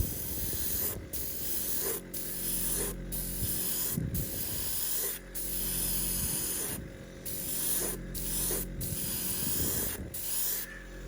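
Airbrush misting very thin paint onto a studio-scale Star Wars Y-Wing model, a steady hiss broken by short pauses roughly every second, close and alone.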